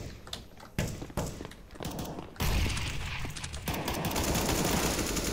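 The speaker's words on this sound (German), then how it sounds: "Mitte wird geschossen." Gunfire in CS:GO: a few sharp, separated shots give way to dense rapid bursts of automatic fire that keep rattling without pause through the second half.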